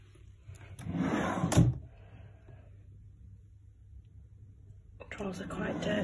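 Empty, dirty drawers in a rental property are pulled open and pushed shut, a near wooden sliding rumble ending in a thud, then a quiet pause before another sliding pass.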